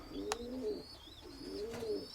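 Pigeons coo softly in a breeding loft, two low rolling coos a second apart, close but quiet, with a faint higher chirp above them.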